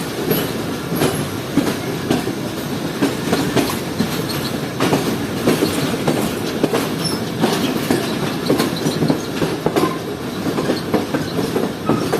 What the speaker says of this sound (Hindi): इस वक्त आप देख सकते हैं कि one up Khyber mail express AG 306029 के साथ पहुंच रही है